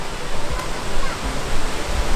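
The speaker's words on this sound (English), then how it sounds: "So, seems like we made it to the waterfall." Waterfall and mountain stream at an abandoned hill station on Bokor Mountain, Cambodia, a loud steady broadband rush of water close by, continuous and unbroken.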